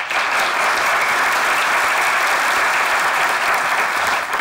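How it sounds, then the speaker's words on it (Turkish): A studio audience at a Turkish comedy sketch show claps in dense, sustained applause, loud and even throughout with no pauses. "Hilmi, Fatma, Cihan, onlara bir alkış."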